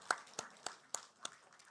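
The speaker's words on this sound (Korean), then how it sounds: "우리 축복에 우리 박수하시겠습니다" A church congregation claps during a Sunday worship service, six sparse, evenly spaced claps, faint and slightly distant in a quiet room.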